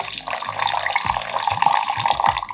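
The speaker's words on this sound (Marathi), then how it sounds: "मी आता एक वाटी पाणी यामध्ये घालत आहे" A bowl of water poured into ground khandvi batter made with turmeric and salt, a close, continuous splashing gush with bubbly pulses, heard alone.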